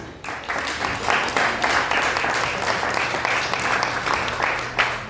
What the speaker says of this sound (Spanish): Den un aplauso al Rey.